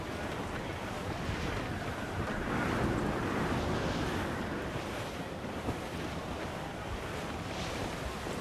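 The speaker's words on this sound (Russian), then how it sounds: "А ветер-то суровый!" Stormy wind and crashing sea waves around a sailing ship in the pirate game Assassin's Creed IV, a steady loud roar of surf and gusting wind throughout with no voices.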